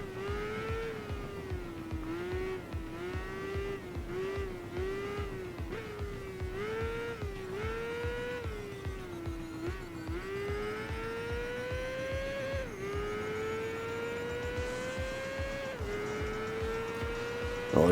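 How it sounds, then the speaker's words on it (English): Motorcycle racing engine from the 2006 PS2 game Tourist Trophy, a fast bike taking corners: a continuous loud, whining engine note that rises and falls steadily with rapid revs and gear changes, with no voice over it. "I'm driving a much faster bike and I need to take those corners."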